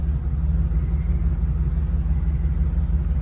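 A BMW E31 850ci V12, a cheap broken garage find, runs with a steady low rumble close by, an even engine drone holding throughout with no voices.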